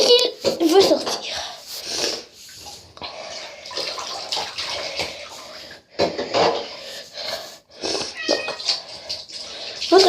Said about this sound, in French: Comme vous voyez, votre chat peut miauler.